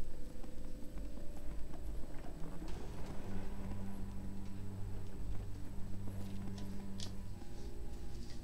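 A pony's hooves clip-clop steadily in the fantasy video game Disciples Liberation, a continuous even trotting rhythm over a droning musical background, with no voices.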